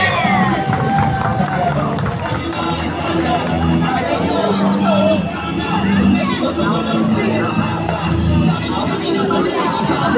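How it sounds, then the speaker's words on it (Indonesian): Crowd at a cosplay walk competition in a Depok shopping centre, cheering, shouting and clapping in a dense, continuous burst of noise, with children's shouts and chatter mixed in and a host's voice partly audible. "Tepuk tangannya."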